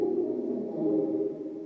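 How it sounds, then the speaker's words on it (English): Bass guitar run through a backwards reverb effect pedal, a steady sustained low-mid tone with swelling, reversed-sounding reverb tails, loud and continuous with no talk. "It's probably a backwards reverb."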